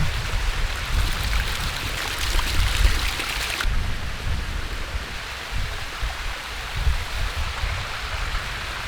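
Waterfall seen from an outdoor viewpoint, a steady broadband rush of falling water that stays close and continuous, slightly louder in the first few seconds before settling into an even roar.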